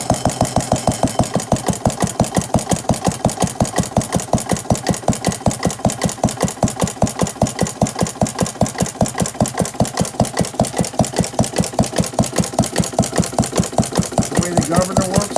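Old stationary non-gas engine fired by flame, with a governor, running at a set speed: a steady, rapid mechanical chuffing and clatter close by, the even rhythm holding throughout.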